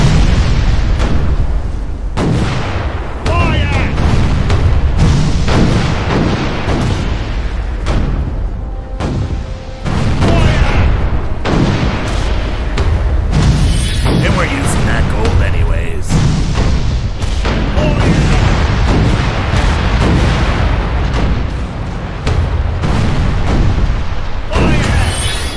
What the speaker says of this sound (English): Cannons loaded!